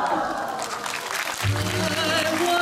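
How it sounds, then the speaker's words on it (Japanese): An audience cheers and claps at a film promotion event in Japan, a dense crowd of applause and shouts with voices mixed in, growing fuller toward the end of the short burst. "そしてお客さんも歓声拍手で盛り上げてください。"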